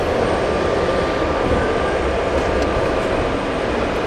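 A Eurowings aircraft at Hamburg Airport produces a loud, steady broadband jet roar that holds evenly throughout without breaks.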